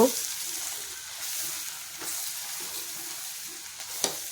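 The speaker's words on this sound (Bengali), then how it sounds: "এবার আমি এগুলোকে মশলাটাকে ভালো করে কষাবো" Turmeric, cumin and chilli powder frying in a pan for a vegetarian papad curry, a soft low sizzle with a few scraping strokes of a spatula, quiet and close.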